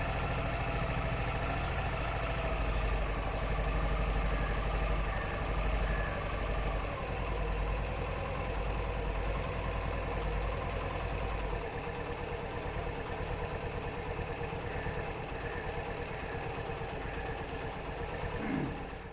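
A Suzuki GR150 motorcycle engine idles steadily at lowered RPM after an air-fuel mixture screw adjustment, a continuous low, even throb running close and loud for the whole stretch without talk.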